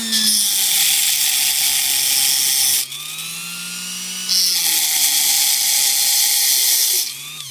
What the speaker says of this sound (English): So I use a little cutting wheel on the Dremel.